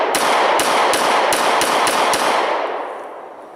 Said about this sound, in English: We're just going to shoot it again at a reasonable tempo, trying to get good combat effective hits.